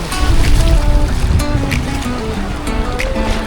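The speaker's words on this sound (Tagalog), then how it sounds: "lakas ng alon o" Strong ocean waves churn and surge around a swimmer in the sea at El Nido, close and loud with rough, rumbling water and buffeting wind noise against the microphone.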